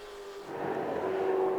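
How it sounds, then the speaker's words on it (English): Ford GT40 race cars roar past at Silverstone during the Amon Cup, a loud engine drone building and holding steady as the pack nears on the final lap. "Final lap then of this Amon Cup for GT40 Enduro"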